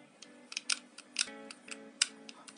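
Glue stick being inserted into a hot glue gun from Aliexpress; a series of faint, close plastic clicks and rattles, irregular and brief, in a quiet room.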